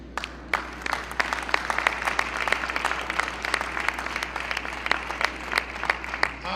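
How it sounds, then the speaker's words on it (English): An audience at a political event on solar energy in Illinois breaks into applause, crisp individual claps spread out and fairly close over a steady low hum. "thank you for the applause"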